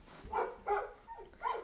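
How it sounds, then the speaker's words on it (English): A dog barks four times in soft, muffled woofs from a distance, evenly spaced and faint. "My dog is still barking."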